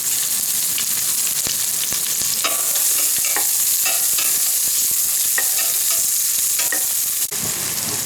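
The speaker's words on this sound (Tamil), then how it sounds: "இப்போ பாருங்கள், இந்த வெங்காயம் வந்து ஃபுல்லாக நல்லா கொஞ்சம் லைட்டாக இந்த கோல்டன் ப்ரௌனில் வணங்கிடணும்" Sliced onions fry in hot oil for egg biryani, a steady dense sizzle with crackling pops and the occasional scrape of stirring throughout, close and loud with no voices.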